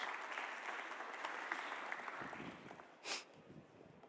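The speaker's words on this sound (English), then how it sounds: "A round of applause for him as he comes up." A conference audience in Riyadh applauds steadily at a fairly distant, moderate level, the clapping sustained throughout with a brief sharp bump near the end.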